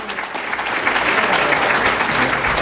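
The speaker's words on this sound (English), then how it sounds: "let's give every one of our panelists a nice round of applause" Audience applause for panelists at a civilian police oversight discussion, a dense, steady round of clapping that swells slightly and continues throughout.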